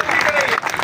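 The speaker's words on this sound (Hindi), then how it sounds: "बाजी के लिए तालियां" An audience at a gathering about a KDA officers club claps steadily and loudly for a short burst of applause.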